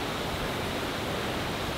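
Wind buffets a microphone outdoors near a glacier in Loen, producing a steady, loud, broadband roar that fills the whole moment without any break.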